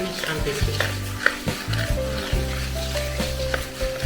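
Bhel puri is stirred together with onion, tomato and lemon in a bowl, giving continuous close scraping and rustling with small utensil clinks over a faint tonal background hum.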